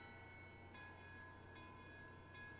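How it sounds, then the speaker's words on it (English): Church bells in the video game Shadows Over Loathing ring faintly in the distance, a few evenly spaced strikes playing Mary Had a Little Lamb over a low, steady background hum. "Is the church bells playing Old MacDonald?"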